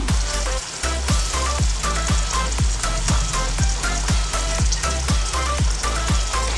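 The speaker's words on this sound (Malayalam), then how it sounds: "ഇതൊരു ലൈറ്റ് ബ്രൗൺ കളർ ആകുന്നത് വരെ നമുക്കിത് എണ്ണയിൽ ഫ്രൈ ചെയ്തെടുക്കണം" Food frying in hot oil in a pan until light brown gives a loud, dense, continuous sizzle and hiss with a steady rapid rhythmic bubbling underneath, close up and with no voices.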